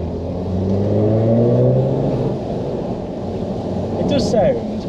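A Saab 9-3 Aero engine accelerating in second gear with the window down, heard from inside the car as a loud, steady rising drone that climbs in pitch over several seconds, then settles into a rough hum under wind and road noise.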